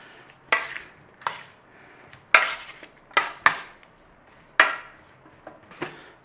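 Cheesy garlic potatoes being tossed in a dish before roasting, giving several sharp clinks and scrapes of utensil against the dish, spaced irregularly and close by, with no talking.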